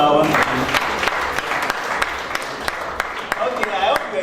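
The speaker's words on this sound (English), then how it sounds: "A round of applause for our one." Audience at a seminar on liquid soap and hygiene product production bursts into applause, a dense run of clapping with sharp individual claps standing out, heard without talk.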